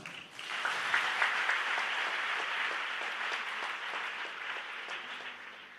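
A congregation at a preaching service bursts into sustained applause, a dense wash of many hands clapping that holds steady for several seconds before gradually thinning and easing off, with no voices over it.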